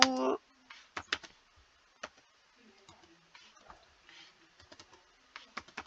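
Light, scattered clicks of typing on a computer keyboard, sparse and irregular, fairly quiet and close, following a brief loud burst at the start, with faint background sounds.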